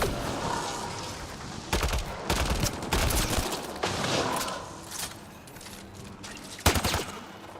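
Rapid gunfire from a firefight in Mass Effect Andromeda: several loud bursts of automatic fire and separate sharp volleys over a few seconds, with a low mechanical rumble between the shots.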